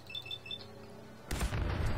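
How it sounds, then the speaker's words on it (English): A suicider's nuclear explosion in Fallout 4 erupts as a sudden, loud, broad blast after quieter game ambience with faint beeping tones, the rumbling roar sustained to the end. "that was a nuclear explosion in your face?"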